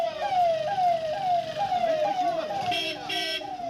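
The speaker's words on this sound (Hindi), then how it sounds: "सायरन की आवाज गूंजने लगी।" A police siren wails in a rising-falling pattern in Shivamogga, India, loud and steady, with a second higher warbling tone joining near the end.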